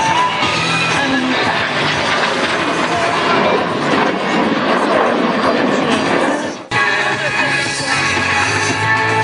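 Patrouille de France aerobatic jets roaring over the Radom air show in 2011, a loud, steady, broadband jet roar that fills the clip with a brief dip before continuing, with an announcer talking under the noise.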